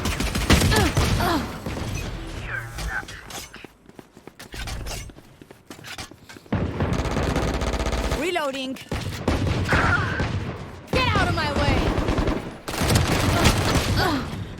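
Video game gunfire comes in loud bursts of rapid shots separated by quieter gaps, mixed with excited voices talking over the action.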